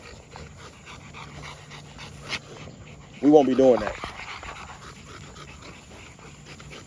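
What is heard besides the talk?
dogs panting to cool down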